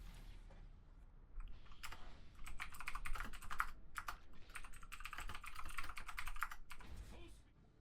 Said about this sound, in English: Just did some more typing, of course